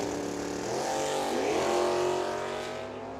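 A drag racing launch at Firebird Motorsports Park, with race cars including a Mustang screaming away from the line: loud, sustained engine roar with rising pitch sweeps, close and continuous, then easing off as they pull away.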